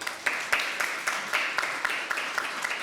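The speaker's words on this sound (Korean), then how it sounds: "모든 패널 분들은 제가 호명 시 큰 박수 부탁드립니다." Audience applause rises for panelists at a conference, a steady wash of many hands clapping at moderate distance, with sharper individual claps popping out regularly.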